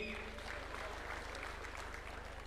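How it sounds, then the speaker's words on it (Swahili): Audience applause at a political gathering of party members in Karen, a dense, steady clapping that fills the whole stretch, with a low rhythmic hum underneath and faint voices mixed in. "tuwapigie makofi"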